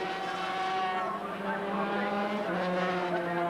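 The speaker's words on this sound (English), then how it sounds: "Now this is the point where Beattie's bike has the advantage, as he just gives it that little bit of extra grunt up the hill." 250cc racing motorcycles at a 1988 Australian road race heat at Wanneroo roar past with high, strained two-stroke engine whine rising and falling, loud and sustained throughout.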